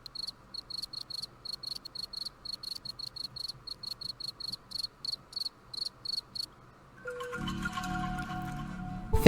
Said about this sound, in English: You want to hear a fast cricket?